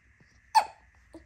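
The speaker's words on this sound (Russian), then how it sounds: "ты что, икаешь?" One sharp, close hiccup at home, with a much fainter second catch about half a second later against a quiet room.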